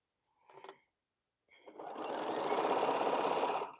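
A home sewing machine stitches a Crown Royal quilt during a live sewing session, starting with a brief whir and then running into a steady, loud, continuous stitching hum that lasts to the end.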